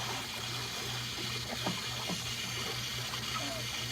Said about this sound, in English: So this is the two pumps on.